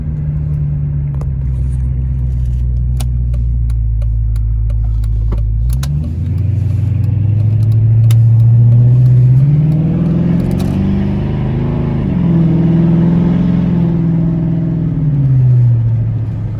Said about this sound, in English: Let's go for a little drive and see how it feels.